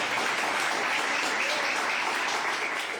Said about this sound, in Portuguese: Você pode aplaudir Ele